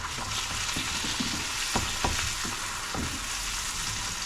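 Sausages (bangers) fry in a pan over a gas flame, giving a loud, constant close sizzle with occasional sharper spits and pops.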